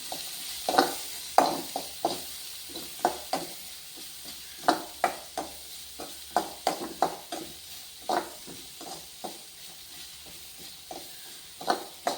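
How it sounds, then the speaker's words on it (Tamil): Ginger, onion and curry leaves sauté on a medium flame, a steady soft sizzle under repeated rhythmic scrapes of a spatula across the pan, close and regular throughout. "இஞ்சி வெங்காயம் மிதமான தீயில் வச்சு கறிவேப்பிலை மிதமான தீயில் வச்சு தான் வதக்கணும்"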